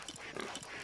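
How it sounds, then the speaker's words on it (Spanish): Pigs in a video game grunt in a short, muffled burst of low snorts under a steady background wash. "Cállense, malditos cerdos"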